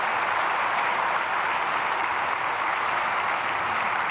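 Church congregation applauding newly registered members during a Sunday service, a dense, even roar of many hands clapping continuously at moderate volume.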